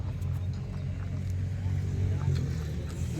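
A Mitsubishi truck with a DE17B engine idles smoothly, giving a steady low rumble, while someone talks nearby.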